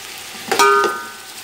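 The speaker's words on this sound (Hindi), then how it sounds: "चिकन को हमने इतना फ्राई करना है कि इसका कलर चेंज हो जाए" Chicken frying in a pot for biryani pulao gives a short, close hiss and sizzle that swells suddenly and fades within a second, with no talking.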